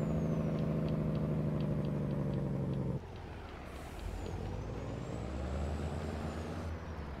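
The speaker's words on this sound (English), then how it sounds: "as soon as you hear my Jake brakes, you'll know what I'm talking about" A heavy truck's Jake brake in Farming Simulator 22 gives a loud, steady rumbling drone for about three seconds, then breaks off into a quieter, lower engine hum.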